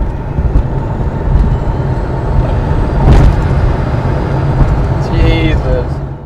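A Porsche 911 pulls away from a standing start in sport mode, a loud, steady low engine roar building over several seconds with a brief surge midway and a chirping noise near the end.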